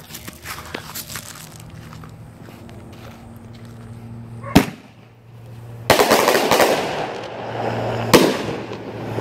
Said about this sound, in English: Gonna light off another one of these tubes, but this one's a 12 shot with a bottom shot